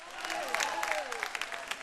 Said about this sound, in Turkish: Hani alkış bu kadar mı?